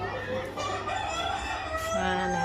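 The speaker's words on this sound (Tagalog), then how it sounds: "Manok ni San Pedro." A rooster crows in a drawn-out call over a steady low hum of background noise, fairly quiet and somewhat distant, with no talk over it.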